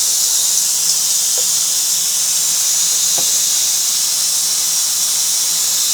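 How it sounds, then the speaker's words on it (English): Steady, loud hiss of steam venting continuously from a pressure cooker released with tongs, with a couple of faint clicks underneath. "I'm going to use those tongs to release the steam"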